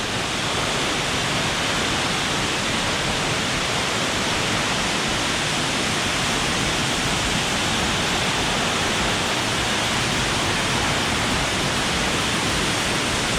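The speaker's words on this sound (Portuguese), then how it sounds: "surreal essa cachoeira, viu? Cachoeira Santa Bárbara" Santa Bárbara waterfall in Brazil's Chapada das Mesas, with its 76-metre drop, gives a dense, unbroken roar of falling water that stays loud and even throughout, with no voices.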